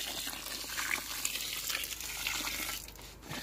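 Water is poured into a bucket while preparing homemade local rice wine, a close, splashing gush with gurgles that eases slightly toward the end, no voices present.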